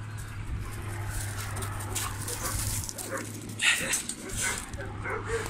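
At a dog shelter, a dog whimpers and gives short yips and a bark, fairly close, while people talk around it and a low hum runs underneath.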